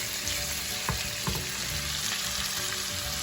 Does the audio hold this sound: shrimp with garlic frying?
yes